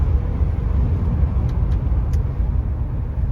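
Classic Ford car with a white top, finished in blue and showing 50,000 miles, cruising on a late-fall road, heard from inside as a steady low engine and road rumble with faint clicks.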